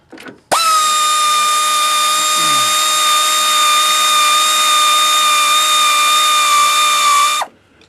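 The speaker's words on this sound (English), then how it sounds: "Best tool, air ratchet." An air ratchet running long alternator bolts on a Chevrolet Trailblazer, one loud, sustained high whirring burst lasting about seven seconds, starting and stopping abruptly, close up with no talking.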